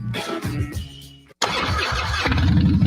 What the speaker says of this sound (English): This is the sound of a popular American motorcycle.